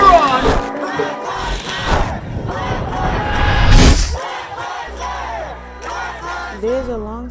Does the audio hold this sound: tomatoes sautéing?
no